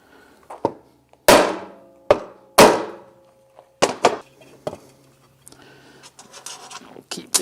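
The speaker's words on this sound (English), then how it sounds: "We're just going to put a couple of nuts on them, smack them with a hammer." Sharp, ringing metal strikes of a hammer on nuts threaded onto Suzuki Samurai SJ410 axle studs, several loud blows in an irregular rhythm with scraping and handling noises between them, close by.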